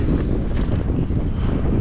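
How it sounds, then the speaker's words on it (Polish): Low, continuous rushing wind buffets the microphone while riding a bicycle, a dense rumble that stays steady and loud for the whole short stretch. "wiatr wieje"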